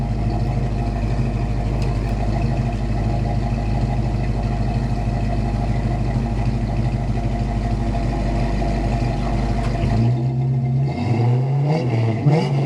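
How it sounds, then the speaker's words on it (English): A 1950 Chevrolet 3100 five-window pickup truck engine idles steadily and loudly throughout, with a brief rev and shift in pitch near the end. "Truck sounds good."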